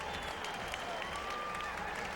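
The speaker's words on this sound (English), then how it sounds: "let's give both of these young men a round of applause" Crowd applause at an amateur boxing event after a bout, a steady even roar of clapping from a large audience, moderately loud throughout with a faint voice underneath.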